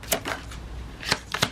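Tarot cards are shuffled by hand in quick, close riffling bursts, a few short crisp runs separated by pauses, with no talking.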